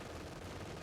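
A .50 cal machine gun lays down suppression fire in a Company of Heroes 2 match. It is a short, steady, low-level rattle of rapid shots that runs unbroken through the moment.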